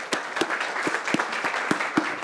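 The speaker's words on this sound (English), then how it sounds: "I would like to welcome Loredana Padurean with a big round of applause" An audience at a Startup Grind event in Cluj-Napoca claps to welcome a speaker, a brief burst of applause with distinct sharp claps standing out at an uneven rhythm.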